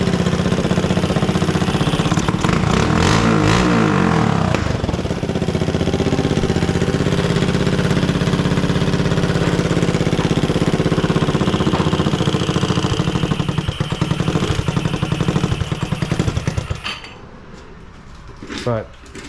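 A GY6 scooter engine wired with an ATV harness runs loud and close with a dense, rattly buzz, holding steady for most of the stretch before abruptly cutting off near the end.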